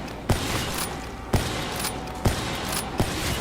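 An SVG rifle fires at manglers in a shooter video game, four heavy, widely spaced gunshots cracking out over a constant background of game noise.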